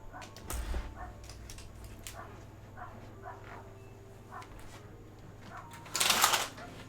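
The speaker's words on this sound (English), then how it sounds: "Can you hear my dog barking?" A pet dog barks in a home in short, separate yaps scattered through the clip, fairly faint and off to the side. A louder burst of noise comes near the end.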